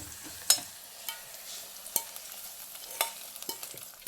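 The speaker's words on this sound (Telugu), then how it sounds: "తాలింపు అయితే ఎర్రగా ఫ్రై అయిపోయింది" Quiet frying of a tempering in a pan with sharp spoon clinks and scrapes at intervals, a faint sizzle running underneath.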